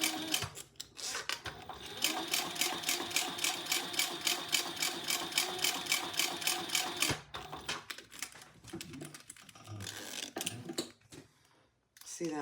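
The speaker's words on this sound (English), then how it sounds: "Let's top stitch that." A sewing machine top stitching fabric, a fast steady mechanical chatter for several seconds that then stops, followed by softer handling noises, with a person talking nearby.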